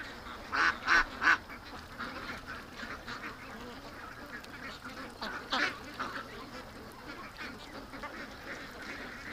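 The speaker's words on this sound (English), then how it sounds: "It looks like just the young ducks are over here on this side." Young ducks in a pen quack and honk in short bursts, a cluster of calls early on and another later, moderately close over a quiet background.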